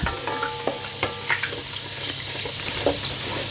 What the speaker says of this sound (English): and the cumin seeds and just let them pop for a bit.